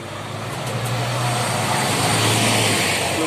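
A city bus rolls past on a busy seaside road in Port Benidorm, its steady low engine drone loud and close for a few seconds, with a few brief high squeaks from brakes early on.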